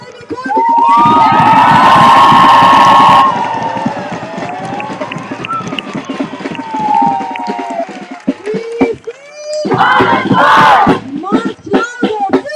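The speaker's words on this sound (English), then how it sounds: "Make some noise for Jeremy Corbyn." A crowd at a Palestine solidarity sit-in outside a government headquarters cheers and shouts loudly, with whistles and voices overlapping. Two big swells of noise rise, ease back to scattered shouting, then surge again.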